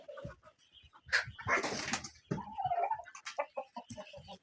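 A Bahama rooster, an adult high-quality bird, gives a series of faint, irregular clucks and short calls close by, with a brief burst of louder vocalizing partway through.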